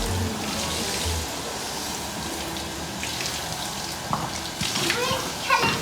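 Water from a hose sprays steadily as it rinses the inside of a grey pony's legs while the pony is washed before a show. The spray is close and continuous, a constant rushing hiss with a few small splashes toward the end.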